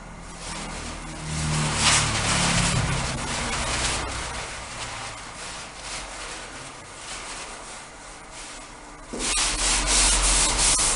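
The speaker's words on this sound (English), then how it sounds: "and rub down to get most of the excess off." Dry cloth rubbed over freshly grouted tiles to clear excess grout, a steady close scrubbing swish that continues for the whole stretch, surging louder near the end.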